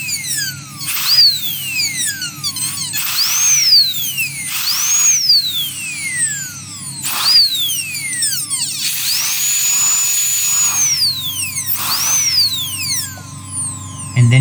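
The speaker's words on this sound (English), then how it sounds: "I'm not doing it with the foot pedal, I'm doing it with the burr, but still intermittent motion." A dental drill burr refines a crown preparation in short intermittent bursts, each a loud high whine that rises then glides down as the burr spins up and slows, about six runs with brief gaps.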